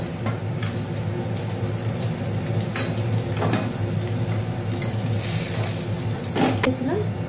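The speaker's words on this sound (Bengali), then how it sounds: "আমার এদিকে মাছটা মোটামুটি ভাজা হয়েই এসছে, আর একটু ভেজে নেবো।" Fish sizzles steadily in a pan over a low gas flame with a constant frying hiss, broken by occasional clinks of a utensil against the pan.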